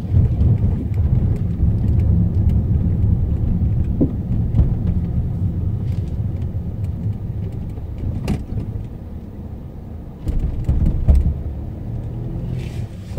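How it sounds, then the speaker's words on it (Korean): A car in drive follows the guide line and turns left on a driving test course, giving a steady low engine and road rumble heard from inside, with a few faint clicks and knocks. "기어 D 놓고 유도선 따라서 좌회전 하겠습니다."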